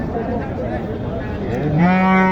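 A cow gives a long, loud moo close by, rising at the end, over a murmur of background voices at a cattle market in Naogaon, Bangladesh.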